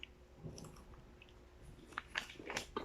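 A corn flakes breakfast cereal bar with coconut and a sweet milk coating being bitten and chewed, quiet close-up crunches and moist squishy chewing that grow busier toward the end, with no talking.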